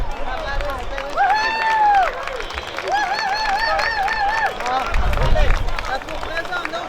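Outdoor festival audience at CanadaFest clapping and cheering warmly for the organiser, a steady wash of applause and crowd chatter with loud melodic tones over it and a few low thumps.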